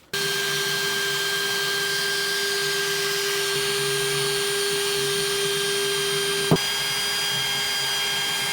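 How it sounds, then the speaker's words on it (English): A drill running steadily to bore out spot welds in the rusted firewall of a Ford Dentside truck, a continuous whine close up with a brief sharp knock near the end, no speech. "We'll get it all drilled out, get it all removed."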